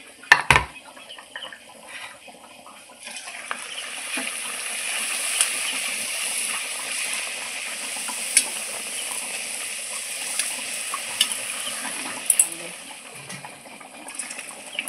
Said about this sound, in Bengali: দেখুন আমি এখন লুচিগুলো এক এক করে সব ভেজে নেব